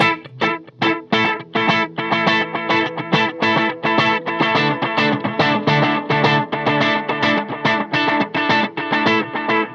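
A recreation of the Roland Space Echo RE-201 tape echo effect, heard as a dense, steady stream of repeated distorted musical notes with a continuous echoing smear, loud and without talk.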